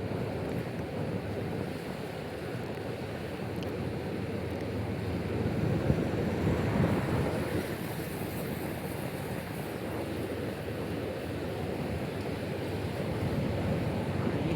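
Rushing water at Patna waterfall in Keonjhar, Odisha, makes a steady, dense roar of broadband noise throughout, loud and continuous without pauses or distinct events.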